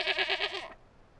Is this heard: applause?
no